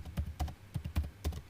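Quick bursts of keystrokes on a computer keyboard while typing text into a word processor, close and crisp with uneven gaps between taps.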